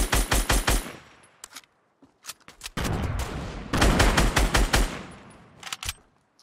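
Video game gunfire in rapid bursts: clusters of sharp, loud shots and short automatic volleys, with gaps between them and a longer sustained burst in the middle, no voices.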